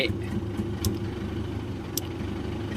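A 2012 Isuzu Titan pickup idling with an electronic throttle box set to a panting mode. Its low, steady engine rumble is fairly faint and close, with a couple of brief high clicks over it.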